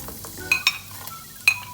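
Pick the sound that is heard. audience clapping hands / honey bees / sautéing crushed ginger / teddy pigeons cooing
sautéing crushed ginger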